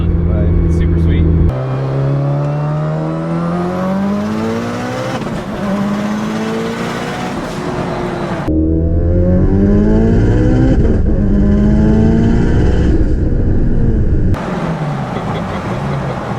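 An 800+ hp all-wheel-drive Mitsubishi Eclipse GSX revs hard on a road cruise, its engine note climbing through the gears with several sharp shift breaks, loud and close from inside the car.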